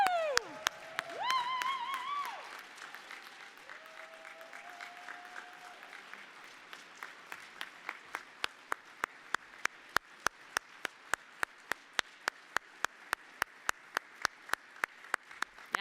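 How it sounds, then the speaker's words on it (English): Audience at a startup day event breaks into applause with a few cheers and whoops at first, then settles into sustained clapping that thins out into sharper, evenly spaced individual claps toward the end. "So huge round of applause."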